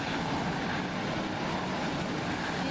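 A video game airplane engine roars in a steady, loud propeller-like drone as the aircraft speeds up, with no talking.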